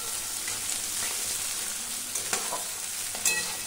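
Thinly sliced onions frying in hot oil, a steady close sizzle with scraping stirring strokes and a few clinks of the spatula against the pan.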